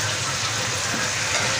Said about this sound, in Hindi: हल्का सा पानी डालेंगे ताकि मसाला हमारा जले नहीं।